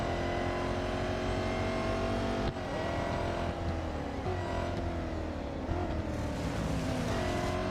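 Race car engine in Real Racing 3, loud and continuous, rising and falling in pitch through repeated gear shifts and accelerations, heard on its own.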